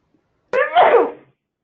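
A single sharp sneeze bursts out close to the microphone in an otherwise quiet room.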